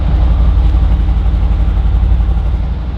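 A gloss-black sports car's engine idles with a deep, loud, steady rumble heard close up, with no voices.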